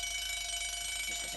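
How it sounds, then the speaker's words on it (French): Alarm clock ringing, a continuous high bright metallic ring held steady throughout at moderate level, alone with no talk. "c'est mon réveil"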